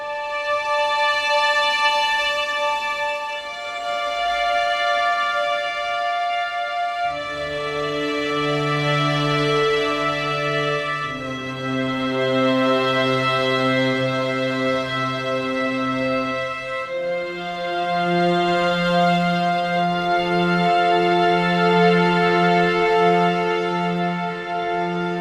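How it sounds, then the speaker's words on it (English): A very small string ensemble, the Spitfire Audio Heirloom longs patch, plays slow sustained chords that swell and shift every few seconds, warm and close, with no voices. "And it's a very small string ensemble, and you can almost hear the individual players."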